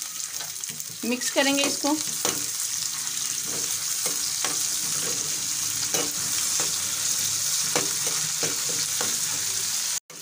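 Green chillies and coriander fry in hot oil for a tempering, crackling and sizzling steadily while a spoon stirs and scrapes the pan. A voice speaks briefly over the frying.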